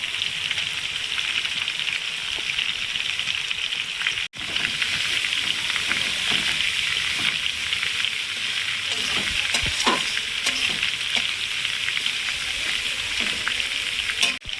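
Ginger and garlic paste fries in a pan for mutton curry, giving a loud, steady crackling sizzle with stirring scrapes and spatters throughout, close up and without voices.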